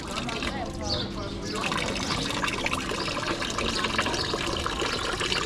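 Water gushing steadily from a tap at a sink in Turkey, a continuous close splashing rush that holds at an even level the whole time with no voices over it.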